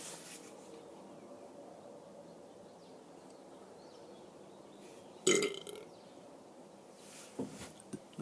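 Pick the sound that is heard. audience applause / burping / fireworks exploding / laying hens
burping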